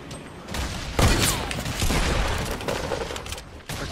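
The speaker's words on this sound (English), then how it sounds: "That shot was really cool, by the way." Rapid gunfire from the video game Fortnite crackles in a dense, continuous burst with booming impacts, loud and close throughout.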